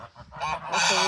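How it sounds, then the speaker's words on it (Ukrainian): Geese honk and hiss at close range in a short, noisy burst, the calls rising and overlapping. "Тут гуси на мене шиплять, вибачаюсь за шум через них."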